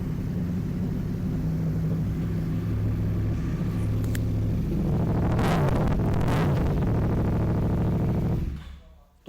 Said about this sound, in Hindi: ये R1 है, क्रॉस प्लेन है, उसकी स्टार्टिंग में आपको दिखा रहा हूँ, बंद थी गाड़ी, खोली, स्टार्ट।